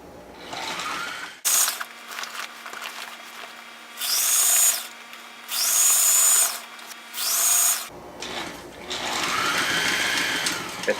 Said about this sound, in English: It also takes some coordination to feed the sail through the machine.